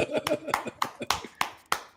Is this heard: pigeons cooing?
no